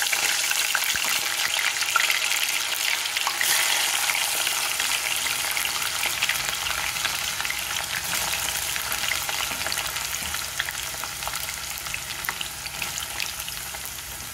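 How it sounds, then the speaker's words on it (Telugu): Ivy gourd (dhondakaya) pieces fry in oil in a pan with a dense, steady sizzle that holds close and loud throughout, tapering only slightly toward the end, with no voices. "ఇలాగే మిగతా ముక్కలు వేయించుకోవాలి."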